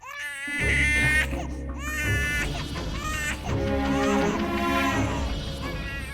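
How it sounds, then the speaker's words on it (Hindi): An infant cries loudly in an empty room, wailing in repeated rising and falling bursts with brief breaths between them, close and distressed over a low steady hum. "ये कमरा तो खाली है, लेकिन बच्चे के रोने की आवाज तो आ रही थी ना"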